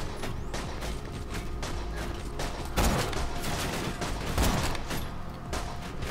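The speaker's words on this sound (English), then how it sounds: "there's people shooting at me" Sustained gunfire in Borderlands 2, with rapid bursts of shots from enemies firing at the player, continuous and fairly loud, with heavier blasts near the middle and end.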